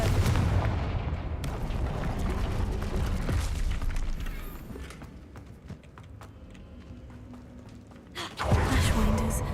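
Repeated explosive blasts from the Confringo fire spell in a Harry Potter video game, booming bursts among game action sounds, with a loud burst near the end.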